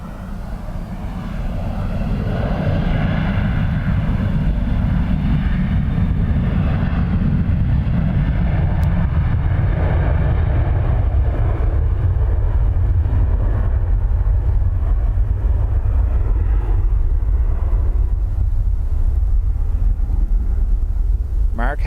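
Jet airliner taxiing at Dublin Airport, a steady low engine rumble and whine that stays loud throughout, slowly easing in pitch, with voices talking over it.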